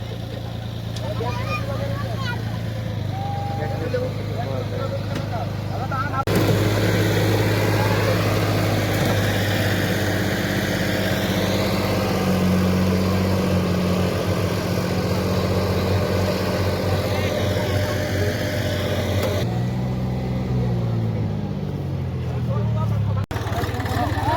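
A tractor engine runs steadily throughout with a low droning rumble while launching a small boat into the sea and getting stuck, as people talk and shout over it.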